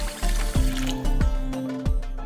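Water splashing and sloshing close by as basmati rice is rinsed by hand in a bowl, with a few distinct swishes and pours against a steady watery background.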